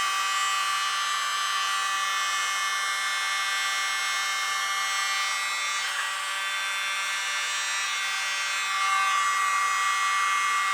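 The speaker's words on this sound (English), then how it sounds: "I'm glad I did this with the little blow dryer" A small blow dryer runs steadily on an acrylic pour painting, a continuous close whirring hiss with no breaks.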